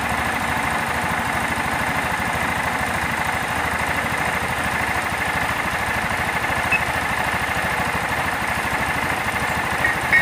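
A car engine idles steadily during an O2 sensor check, a constant mid-level hum with a faint rhythmic knock underneath, heard alone without voices.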